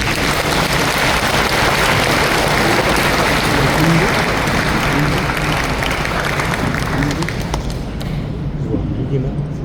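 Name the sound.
congregation applause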